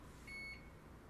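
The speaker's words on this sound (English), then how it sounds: "What is beeping?" A single steady electronic beep, clear and high-pitched, lasting about a quarter second over quiet background noise.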